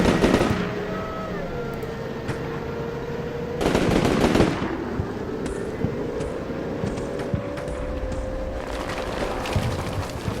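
Machine gun fire in Combat Mission Shock Force 2: a long burst at the start and another strong rattling burst around four seconds, with scattered distant shots and a steady low engine-like drone between them, ending with more rapid fire.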